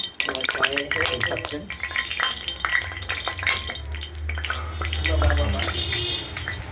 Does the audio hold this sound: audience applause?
no